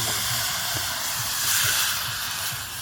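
Chicken and coriander leaves frying in hot oil, producing a continuous loud hiss and sizzle with soft bubbling pops underneath.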